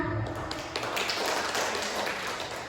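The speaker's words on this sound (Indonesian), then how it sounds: "Selanjutnya saya beri aplaus." An audience applauds at the close of a seminar, a dense, even patter of many hands clapping for about three seconds.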